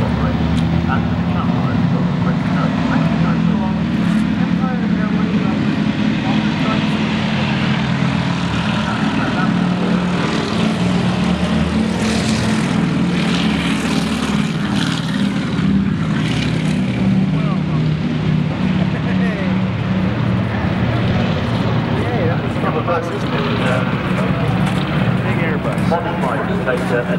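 A vintage warbird, a propeller plane with an engine on the nose, drones steadily overhead at an airshow over the beach, a loud continuous engine roar that holds for the whole stretch.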